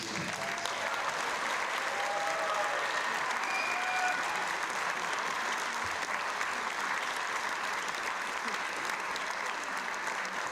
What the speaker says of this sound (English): I just want to give us all a huge, huge round of applause to all the incredible athletes